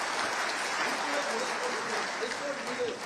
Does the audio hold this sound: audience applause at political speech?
yes